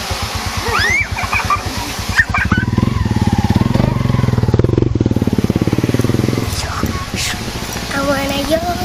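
A motorcycle engine rumbles loudly nearby on a school pickup run, swelling into a strong steady drone as it passes before fading back, with people talking around it.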